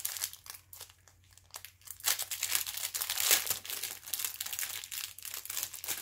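A plastic bag crinkled and pushed aside during a craft demonstration, close crackling rustles that rise and fall in irregular bursts for several seconds, with no one speaking.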